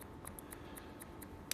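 Scissors point-cutting hair in a salon, a quick series of soft, crisp snips at an irregular rhythm, close and quiet.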